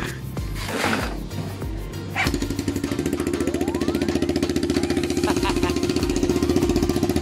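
A Mio Sporty scooter with a 180cc four-valve engine and a temporary high-mount pipe starts up and runs with a loud, rapid, pulsing exhaust putter. A rising whine sweeps upward as it settles into a steady idle.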